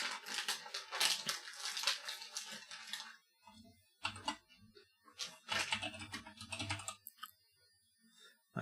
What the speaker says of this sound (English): So I'm basically typing into your system.